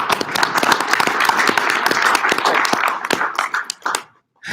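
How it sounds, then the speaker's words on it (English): An audience at a tribal leaders' economic summit gives a presenter a warm round of applause, steady dense clapping that thins into a few scattered claps before stopping abruptly. "Let's give her another big round of applause"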